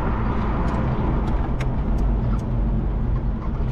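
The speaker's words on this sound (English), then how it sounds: "This thing really rides down the road nice" A 1969 Chevelle convertible cruises down the road, its engine and tyre roar a steady, unbroken rush of road noise, close and moderately loud.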